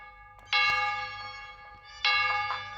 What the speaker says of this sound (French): Les cloches ne s'arrêtent pas.